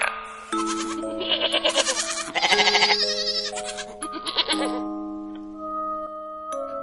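Goat bleating, several wavering cries in close succession, loud and near, followed by a chime-like tone and sustained musical notes.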